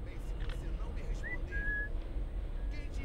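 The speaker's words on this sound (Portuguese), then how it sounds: "Vou até assobiar pra você vir logo." Short whistles in the video game Assassin's Creed Syndicate, a couple of brief rising and steady tones over a low rumbling background, with a faint voice nearby.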